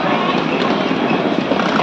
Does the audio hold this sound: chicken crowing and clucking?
no